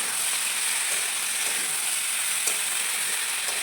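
Ginger and green chili paste fries in a pan for a mixed vegetable curry, giving a steady, close, continuous sizzle with faint scraping from stirring and no talking.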